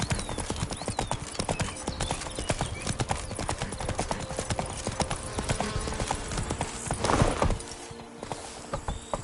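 Roach, Geralt's horse in The Witcher 3: Blood and Wine, trots along with a steady, close clip-clop of hooves throughout, swelling briefly near the end with a louder rustle.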